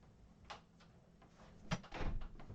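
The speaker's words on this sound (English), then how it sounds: "Let me close my door." An indoor door swings shut with a soft bump and brief latch clatter, heard alone and close by at a low level in a quiet room.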